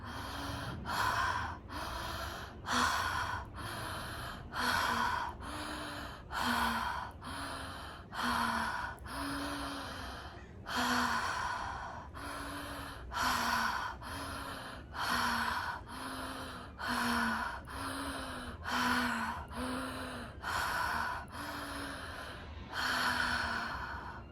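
Deep breaths drawn in and pushed out through the mouth in a steady rhythm, about twenty close, loud cycles of gasping inhales and exhales with no talking.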